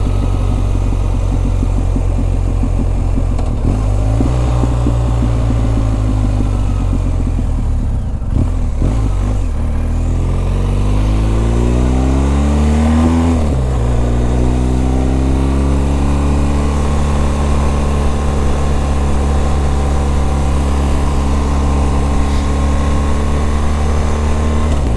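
Motorcycle cruising along scenic New Jersey roads, a loud, continuous engine drone with rising and falling pitch as the rider shifts and accelerates, heavy wind rumble throughout, no voices.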